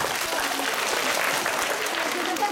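Steady audience applause at a Belgian variety show, dense and even clapping throughout with a faint voice underneath.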